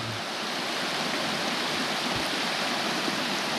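A waterfall inside a mountain gorge in Friuli, near the ghost villages of Tamar and Palcoda, pours with a constant, dense hiss and rush of water, steady and close, with no voices.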